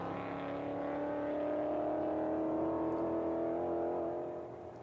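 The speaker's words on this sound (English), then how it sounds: "Just hitting the rev limiter by the sound of that as he was heading up through the S's." A Ford Mustang race car in an IMSA Mustang Challenge event at Virginia International Raceway holds a sustained, buzzing high-rev drone against the rev limiter, heard from a distance for several seconds before easing off.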